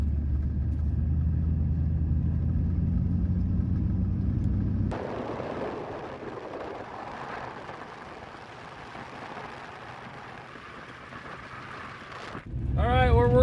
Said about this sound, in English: Alright, we're on Duramax on a dirt road.